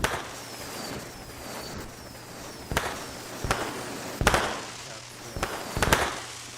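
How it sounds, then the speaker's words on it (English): Fireworks close a capstone event with a series of sharp, separate bangs and cracks, some in quick pairs, over a steady background hum, with faint whistles rising between the blasts. "How many capstone events end with fireworks?"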